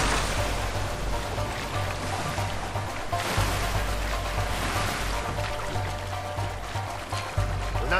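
Loud, steady rushing of river water near a waterfall in the video game A Way Out, a dense continuous roar that fills the whole eight seconds without letting up, with no speech over it.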